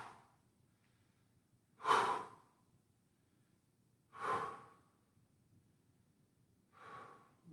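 Three slow, audible breaths during a hamstring stretch in a mobility routine, each a soft breathy exhale spaced a couple of seconds apart, close and fairly quiet against a low background hum.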